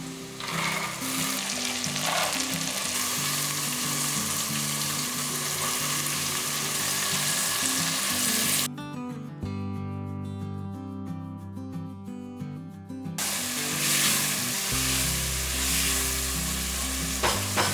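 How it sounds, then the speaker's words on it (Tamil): Soya chunks sautéing in oil with onions in a pan, a continuous close sizzle and frying hiss, with a tonal background sound in the middle and a low hum near the end. "இந்த சோயாவை எடுத்து இந்த எண்ணெயிலேயே போட்டு நல்லா வதக்கிட்டோம்"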